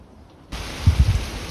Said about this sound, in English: It's raining a bit less now